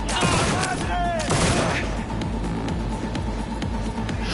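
Gunfire in the video game Cyberpunk 2077, a dense burst of rapid shots up front that keeps going under a steady layer of game noise and effects.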